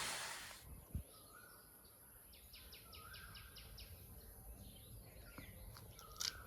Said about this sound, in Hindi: गांव में कितनी अच्छी आवाज़ें आती रहती है ना, बर्ड्स की ऑल द टाइम। कोई कोयल की आवाज़ भी आ रही है